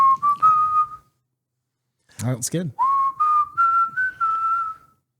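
A man whistles a song in two clear phrases of sustained, slightly wavering notes, close and loud. A brief burst of speech falls between the phrases.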